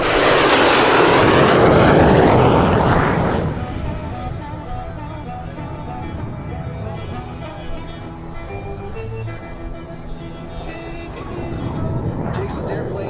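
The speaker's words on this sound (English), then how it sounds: "Jason's airplane, the F model, the F indicating that it was a VK-1F engine with an afterburner" A MiG-17F jet with a VK-1F afterburning engine flies past at a night airshow, a loud roaring pass that fades after a few seconds into a lower, distant rumble with faint crowd noise.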